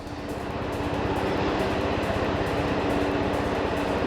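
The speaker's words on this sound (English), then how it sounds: "I can hear there's like a helicopter" A helicopter passes overhead during a drone flight outdoors, its steady rotor drone and engine roar continuous and fairly loud throughout, with a rhythmic low thudding and no voices.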